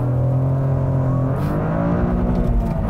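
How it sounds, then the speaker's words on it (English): A 2023 Toyota GR Corolla's three-cylinder engine revs hard toward its rev limiter, a loud, close, steady drone that rises in pitch throughout, with no voices. "Got a little bit friendly with the rev limiter there, but that was really good. Makes a nice noise, and for a three-cylinder engine, this thing really moves."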